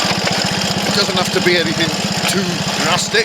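A Triumph Tiger Cub motorcycle engine thumps at a steady rapid rhythm on a sunny January ride along local lanes, running close and constant under someone talking.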